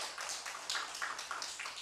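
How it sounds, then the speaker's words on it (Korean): Congregation in a church applauding together at an early-morning prayer service, a soft, steady patter of many hands clapping at a distance, fairly faint and continuous. "박수 칩시다."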